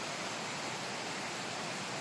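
Water from a river or stream at a mountain spring resort rushes on without a break, a broad even hiss with no pauses, nearby and steady, with no one speaking.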